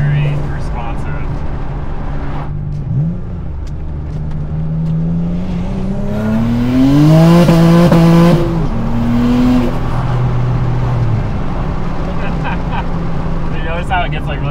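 A turbocharged V6 Honda engine with an external wastegate drones loudly from inside the moving car, its pitch swelling and rising midway before easing off, with voices talking throughout.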